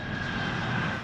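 An Amazon cargo plane's engine gives off a steady, even drone with a faint whine, heard alone for about a second at moderate distance.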